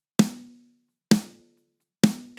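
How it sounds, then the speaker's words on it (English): Three unprocessed acoustic snare drum hits, each a sharp crack that decays quickly, evenly spaced and heard alone with no other sound. "for the snare, here's what it sounds like raw as well"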